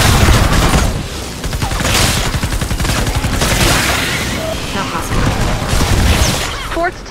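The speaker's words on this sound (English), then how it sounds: "Let's huck another grenade." Grenade explosions in the Fortnite game, a loud, busy stretch of repeated booms and rapid gunfire-like bursts layered with crackling debris, continuous over several seconds with a voice speaking underneath.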